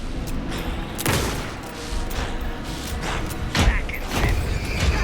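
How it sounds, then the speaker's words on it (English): Gunfire in Alan Wake II: a burst of rapid shots and heavy booms repeating over several seconds, loud and close, layered over rumbling game ambience with no talk. "pin him down with gunfire for me to get the light on him"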